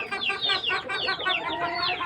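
Chickens in a poultry room for young birds on a small farm cluck continuously, a dense overlapping chorus of short calls close by, with no talk.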